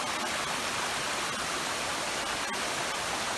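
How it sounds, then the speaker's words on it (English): A waterfall pours down a ravine after rain in the backcountry along the Appalachian Trail. Its steady, dense rushing roar stays even and close throughout, with no voices. "in addition to getting water, we get a view of a nice waterfall"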